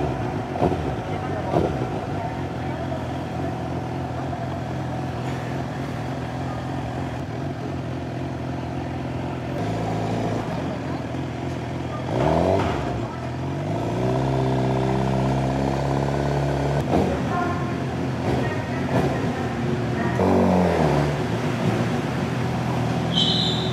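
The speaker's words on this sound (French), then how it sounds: "voilà à quoi ça ressemble l'intérieur d'un ferry" Inside a ferry's vehicle deck, engines rumble and idle in a loud, steady drone, with shifting engine tones and clanks echoing in the enclosed space while people talk over it.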